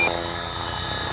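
A tanker aircraft flying past at an air display, a steady broad jet engine roar with a faint high tone, holding level and fairly loud for its brief duration.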